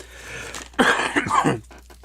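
A single short fit of coughing, two or three rough throaty bursts close to the microphone, followed by quiet.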